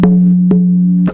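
A handmade one-sided drum of deer skin tied with sinew onto a wooden hoop, struck three times at a steady pace, each hit leaving a loud, sustained resonant ring close up.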